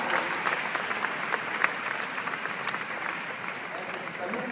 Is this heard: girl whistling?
no